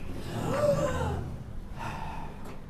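A room of students standing up and drawing in a deep breath together, a breathy inhale swelling and fading, followed by a softer exhale.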